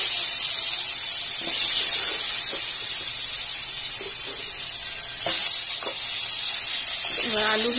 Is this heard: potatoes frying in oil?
yes